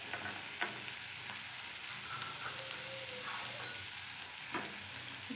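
Soaked peas frying in oil in a pan while being stirred, a steady close sizzle with occasional soft scrapes of the spoon.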